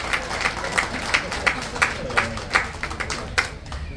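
A crowd claps in a steady rhythm, sharp beats roughly every third of a second, as a new female winner is asked to stand at a public gathering; crowd murmur runs underneath.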